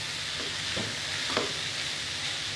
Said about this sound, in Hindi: बस हमें इसे 5 से 7 मिनट ही फ्राई करना है हाई फ्लेम पर।